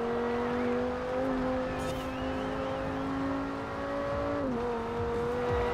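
In Forza Horizon 4, a limousine's engine hums at a steady, close cruising drone, with a brief tire squeal partway through and a sudden drop in pitch near the end as it shifts or lifts off the throttle; no one speaks.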